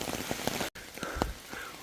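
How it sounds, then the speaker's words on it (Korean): Dense hail patters and crackles steadily on a mountain trail at Bangtaesan, a close, continuous broadband rattle with one brief dropout. "와 우박이 내립니다"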